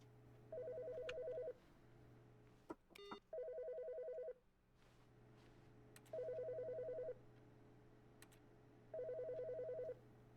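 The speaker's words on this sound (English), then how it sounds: "I want to pick up the phone." A telephone ringing in the video game The Stanley Parable, four evenly spaced electronic ring bursts over a low steady hum, clear and alone without speech.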